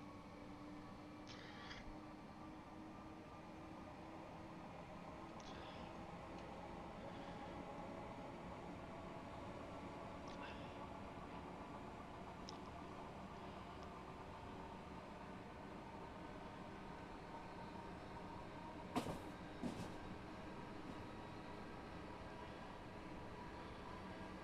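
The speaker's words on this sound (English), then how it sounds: "they've captured the rail sounds as well from an open window quite well" Rail sounds heard through an open train window in Train Sim World 6: a steady, quiet rolling rumble and hiss of wheels on track, with faint rhythmic clicks and a brief pair of sharper knocks near the end.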